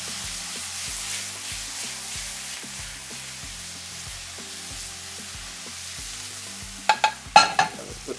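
Garlic fries and is stirred in a hot pan, a soft steady sizzle with rhythmic scraping strokes, ending in a few louder clatters of the utensil against the pan.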